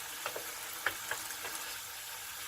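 Chicken cooking in a pan until it turns white gives a steady, close sizzle broken by a handful of small pops and crackles, with no voices.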